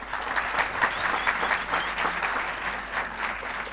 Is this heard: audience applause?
yes